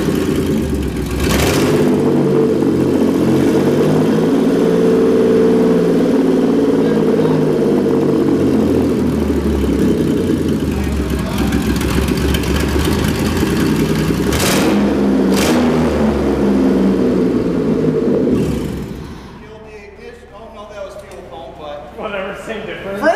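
A car engine, just rewired and reprogrammed, rumbles loud and close, swelling through repeated throttle blips and sustained revving before dropping off, with voices heard in the background.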